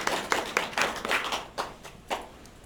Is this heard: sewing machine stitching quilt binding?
no